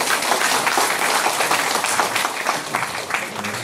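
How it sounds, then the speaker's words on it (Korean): Dense, sustained applause from a crowd at the opening ceremony of a calligraphy exhibition, steady and fairly loud throughout with no talking over it. "박수"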